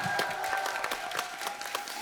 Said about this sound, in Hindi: जुबिन के लिए जोरदार तालियां हो जाए एक बार